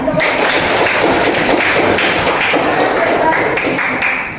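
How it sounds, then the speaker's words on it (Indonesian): A classroom group applauds with dense, steady clapping that fills the whole stretch at close range, with voices mixed into the din before it tapers off at the end. "Kita beri aplaus dulu ya."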